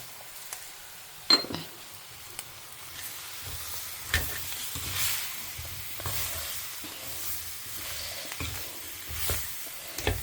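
Brinjal (eggplant) pieces sautéing in a pan for a kara kuzhambu, with a soft broadband sizzle, intermittent stirring scrapes and a few light metallic clinks of a spoon, moderately close and without talk.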